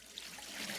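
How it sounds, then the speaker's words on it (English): Hot water poured out of heated canning jars into a sink during home canning, a steady splashing rush that continues evenly throughout, with no talking. "I'm going to go ahead and get these jars emptied of their water that I've had them heating with"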